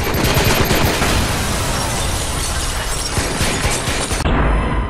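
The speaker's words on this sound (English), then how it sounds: "Oh, grenade." A grenade blast in the Watch Dogs video game: a loud, dense roar of explosion and gunfire fills the whole stretch without pause, then the rumble thins slightly at the very end.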